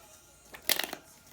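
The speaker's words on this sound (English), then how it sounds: "let me shuffle again" Thin tarot cards are shuffled by hand in one short, crisp papery burst of riffling close to the microphone, set against quiet room tone with no talking.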